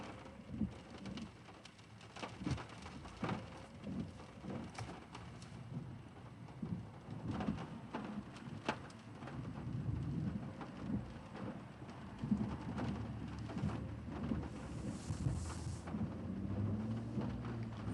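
Rain and thunder from a storm in central Texas, a steady wash of rain with low rumbling thunder rolling in the background over the whole stretch, moderately faint and continuous.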